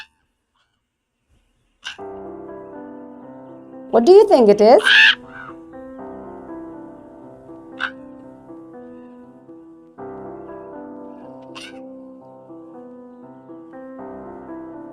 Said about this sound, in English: It is a crow